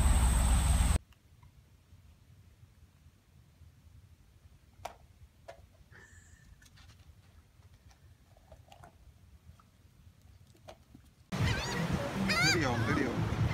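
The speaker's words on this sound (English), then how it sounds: "Birds is going crazy." Birds eating ice cream give a few short honking calls, scattered and faint in a quiet stretch between louder noisy passages.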